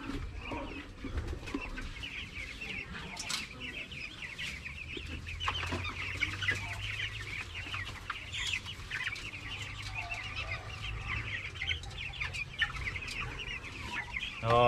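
Native chickens cluck steadily at close range in a farmyard pen, with overlapping hen calls and occasional sharper squawks over a low background hum throughout.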